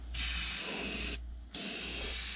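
A Master G22 airbrush sprays paint onto a fishing lure in a close, steady hiss. It cuts off briefly, then resumes with a second burst.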